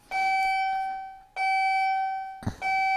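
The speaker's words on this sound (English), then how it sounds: "See, the bells are ringing just like you were here." A bell-like electronic tone rings out three times, each a sustained bright chime that slowly fades, close and loud with no speech.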